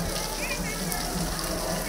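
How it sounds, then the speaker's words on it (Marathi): Rain falls in a steady, continuous hiss on outdoor surfaces, lasting the whole short stretch with no break, while people talk faintly in the background. "पाऊस आला."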